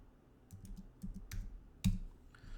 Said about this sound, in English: Let me type in pharmacy